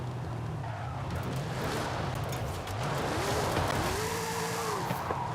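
A 1969 Dodge Charger held in a long drift in Forza Horizon 5, its engine droning steadily with rising and falling tire squeal sweeping through the middle and end, loud and continuous with no talk.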